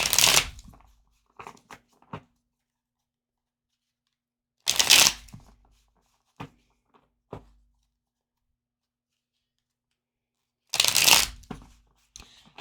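A future prediction card deck shuffled by hand in three loud, close riffling bursts, with soft taps and handling noises between them and near silence in the gaps.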